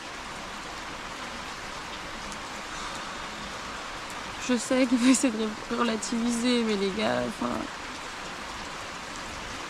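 Steady rain falls on a tent at a campsite in Wayag, Raja Ampat, a constant close hiss, while someone speaks over it for several seconds partway through.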